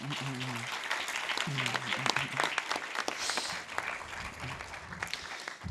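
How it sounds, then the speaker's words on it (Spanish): An audience at an education and media literacy conference applauds its speakers with a burst of dense clapping that swells and then tapers, while a voice briefly talks over the start. "Les rogaríamos un aplauso para todos ellos."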